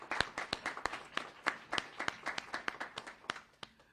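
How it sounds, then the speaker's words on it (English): Scattered hand clapping from a small audience at a fire-department event unveiling bedside fire alarms for deaf and hard of hearing residents in Milwaukee; sparse, distinct claps at moderate distance, thinning out after a few seconds. "Let's give them a round of applause."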